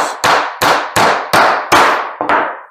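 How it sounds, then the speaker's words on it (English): A hammer nails particle board in place for a laminate countertop, with seven loud, evenly spaced sharp blows, close and ringing, the last two coming slightly quicker. "try not to knock it out of the way as you nail it in place"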